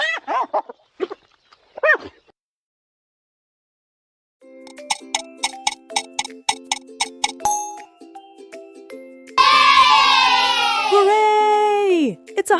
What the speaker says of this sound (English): Hyena sound name is laugh.